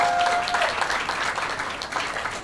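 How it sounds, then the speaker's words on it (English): Audience applause at a global assembly for an international organisation, a steady wash of clapping from a crowd that holds for a couple of seconds without pause. "please, a round of applause to Mr. Manuel Hidalgo."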